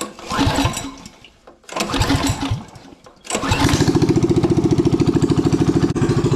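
A small minibike engine is pulled over in cold weather, sputtering in two short bursts before catching and settling into a loud, steady, rapid idle chug close by.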